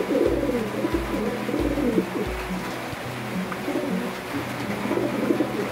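Racing pigeons coo in a steady, repeating low rhythm close by, the soft throaty calls overlapping against a constant background hiss.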